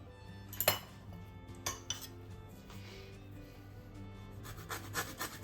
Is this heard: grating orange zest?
yes